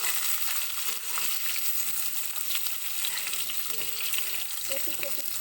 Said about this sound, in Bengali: এপিট ওপিট করে আমি এগুলোকে ভালো করে ভেজে নিচ্ছি।